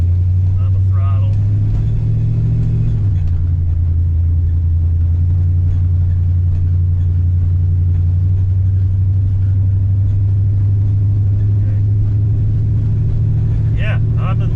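A 340 Plymouth Duster fitted with a manual reverse valve body pulls away at light throttle, its engine rumbling loud and close, the pitch dropping at a shift, then holding a steady drone while a voice talks over it.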